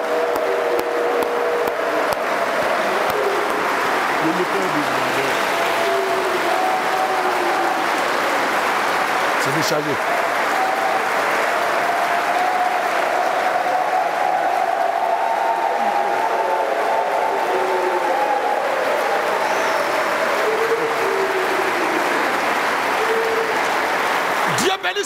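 A large crowd at a religious gathering applauds and cheers in acclaim, a dense, continuous roar of clapping and voices that never lets up, with someone speaking over it.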